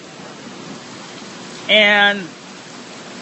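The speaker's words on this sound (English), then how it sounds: "Right now, that rain is falling at an extremely fast clip." Heavy rain pours steadily during a severe storm, a dense continuous hiss throughout; a voice briefly speaks partway through.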